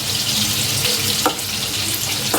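Conch meat being stirred through frying masala for a North Madras sangu kari, a steady close sizzle with a couple of brief scraping stirs of the spoon and no talking.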